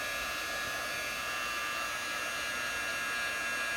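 An embossing heat gun blows a steady, loud whooshing hiss while warming a metal brad held in tweezers for card-making, unbroken for a few seconds with no talking.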